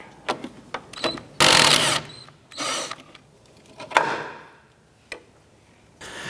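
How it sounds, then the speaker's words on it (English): Irregular metallic clicks and short ratcheting bursts from a 15mm deep socket and a 14mm wrench loosening the upper strut nut on a 2006-2013 Chevrolet Impala rear strut, close and fairly loud with pauses between. "Using a 15mm deep socket and a 14mm wrench on the back side of our sway bar inlet, we want to go ahead and remove this nut off of our strut."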